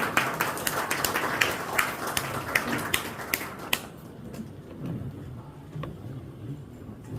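Applause from an audience at a Korean community organization's presentation ceremony, a dense burst of clapping that fades after a few seconds into scattered claps and quiet room noise.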